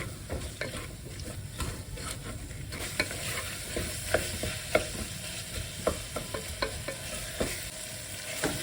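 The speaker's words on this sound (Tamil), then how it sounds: "உப்பு போட்டு நல்லா மிக்ஸ் பண்ணிக்கோங்க" Vadacurry masala sautés in a pan, a steady close sizzle of frying broken by repeated scraping stirs at an uneven rhythm, with no voices.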